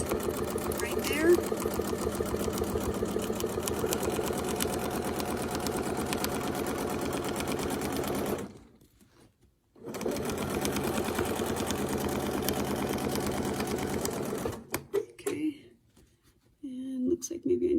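A sewing machine stitches a continuous border loop with a quilting template, running in long, rapid, steady bursts separated by brief pauses, close and clear, with faint talk near the end.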